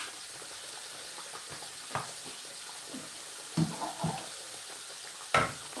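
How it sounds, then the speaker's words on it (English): Water poured into a hot pan of frying chicken: a continuous low hiss and sizzle with a few brief splashy bursts, moderately close, and no talking. "Just put some water."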